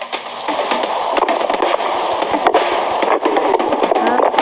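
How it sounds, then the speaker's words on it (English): Fireworks launched from a fireworks dispenser in a building game crackle and pop in a dense, continuous barrage, loud and close, with voices talking over the bursts. "Oh no! A fireworks"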